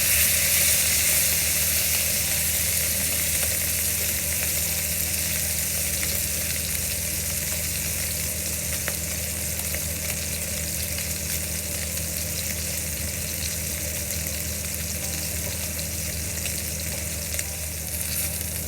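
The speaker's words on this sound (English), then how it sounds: "So now we have to seal the beef above side." Beef sears in a hot pan of olive oil, giving a continuous, loud frying sizzle with a steady hiss that holds evenly throughout, with no talk over it.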